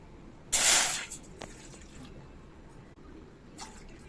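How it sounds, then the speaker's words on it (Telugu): Water is poured into an idli cooker in a kitchen: a short, loud splashing gush near the start, then quiet room tone with a faint knock and a soft later trickle. "అందుకోసం ఇడ్లీ కుక్కర్ పెట్టుకొని అందులో రెండు గ్లాసులు నీళ్ళు పోసుకుందాం"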